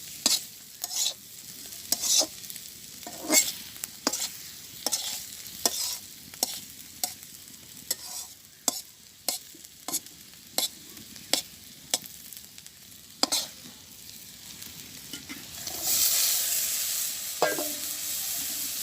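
Onion and green chilies fry in a pan over a village cooking fire, a continuous sizzle broken by a long series of sharp, regular scraping stirs, with the frying swelling louder toward the end.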